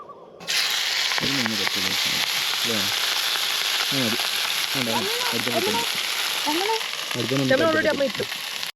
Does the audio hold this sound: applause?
no